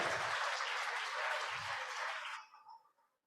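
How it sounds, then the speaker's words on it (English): An audience at a community presentation applauds in a dense burst of clapping that fades out abruptly near the end, with a couple of low thuds beneath. "help me give a huge round of applause for Yukon U Culinary?"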